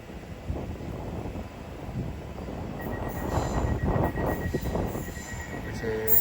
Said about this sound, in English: Arriving now is the 1738 Greater Anglia service from Liverpool Street to Southminster